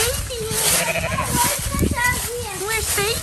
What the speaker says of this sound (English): There's mama sheep.